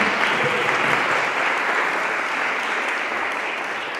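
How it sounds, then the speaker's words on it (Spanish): A lecture audience gives a lecturer a sustained round of applause, a dense, even wash of clapping from a large crowd that holds steady and fades only slightly over a few seconds. "Un aplauso para Manuel Almendro."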